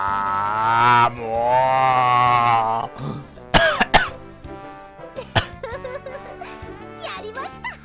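After a drawn-out groaning voice, a person gives two sharp coughs and some throat clearing, close to the microphone, during a mahjong game session.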